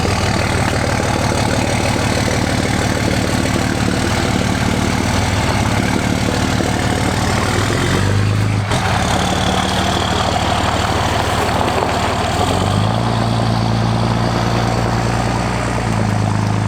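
A 2005 Cummins 5.9L common rail diesel truck engine idles close by with a steady low rumble and clatter, shifting pitch briefly about midway and again near the end, with no talk over it.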